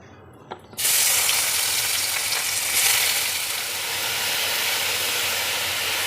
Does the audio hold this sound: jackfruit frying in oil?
yes